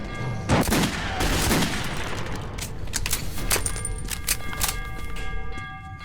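Rapid gunfire from the Metro 2033 prologue, a dense volley of shots at the start that thins into scattered, echoing single shots and thuds across a steady background drone, with no talking.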